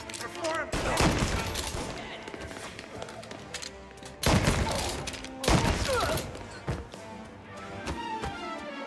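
Volleys of gunfire from a firing squad in the video game Mafia Definitive Edition, loud bursts of crackling shots repeating in several waves with echoing thuds between them.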